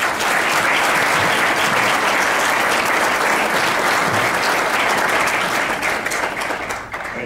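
An audience claps steadily and loudly to welcome Congressman Lungren, a dense, sustained burst of applause that holds for several seconds before tapering slightly at the end.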